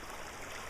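A large volume of water pours over a weir near a water wheel, making a steady, broadband rushing roar that stays constant and fairly distant, with no voices.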